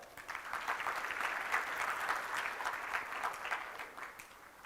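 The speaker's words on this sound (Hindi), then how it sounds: "आप सबकी चर्चा के लिए जोरदार तालियां" An audience applauds at a talk on happy marriage in Gujarat, a fairly quiet, sustained round of many hands clapping at a slight distance, even and continuous throughout.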